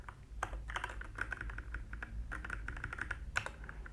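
Rapid typing on a computer keyboard during HTML coding, with irregular bursts of clicky keystrokes, pauses between words and steady close clatter, no voices.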